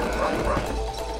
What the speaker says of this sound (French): Ah, du coup, le chien.